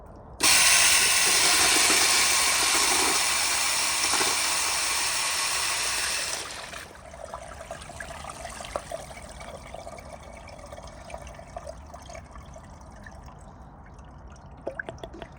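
A 2007 American Standard Allbrook urinal with a 1.0 piston flushometer flushes in a loud, close rush of water lasting about six seconds, then drops to faint trickling and dripping as the bowl refills.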